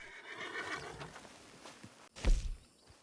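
In Red Dead Online, a horse gives a sharp, loud neigh near the end after a stretch of quieter hoof clops and shuffling, the whinny bursting out close and brief.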